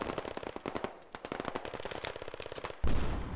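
Gunfire in the military shooter game Squad: rapid bursts of automatic fire crackling in quick rhythmic volleys, fairly close, with a heavier blast near the end.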